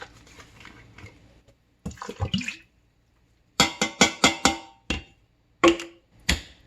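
Water sloshes and knocks in a container as it is shaken to rinse out leftover sauce, coming in short bursts and rhythmic clusters of sharp splashes separated by brief pauses.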